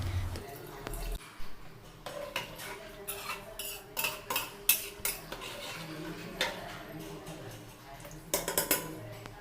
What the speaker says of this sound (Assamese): ইয়াতে অকণমান লৰাই দিম তলৰ পৰা ওপৰলৈ